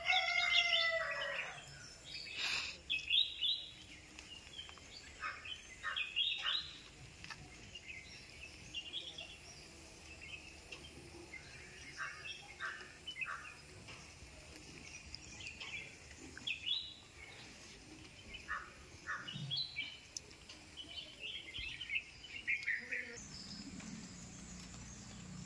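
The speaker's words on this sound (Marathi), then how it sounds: "हा बघा एक बुलबुल इकडे बसला." Bulbuls and other birds call around a village house in the Konkan countryside, with scattered chirps and short whistled phrases coming and going at moderate distance over a steady outdoor background.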